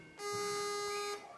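A Silk'n ToothWave electric toothbrush switches on with a steady, tonal electronic hum that holds for about a second and then stops, close and alone.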